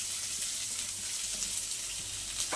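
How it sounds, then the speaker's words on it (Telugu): Chopped onions hit hot oil with already-popped mustard seeds, giving a close, steady, hissing sizzle that runs unbroken throughout, with a faint crackle near the end and no talking. "ఇప్పుడు ఆవాలు వేగిన తర్వాత ఈ ఆనియన్స్ అంతా వేసేసి"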